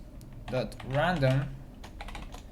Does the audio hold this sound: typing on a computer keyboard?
yes